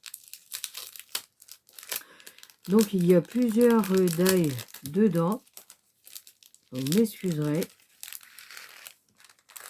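Plastic packaging crinkles and rustles in short bursts as it is opened while a person talks, the crackling loud and close.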